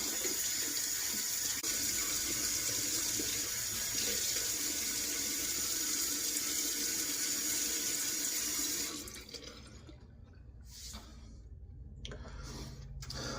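Tap water runs steadily from a faucet into a sink while a face is wetted before shaving, a loud continuous splash for about nine seconds, then quieter intermittent trickles and drips as the flow is cut back.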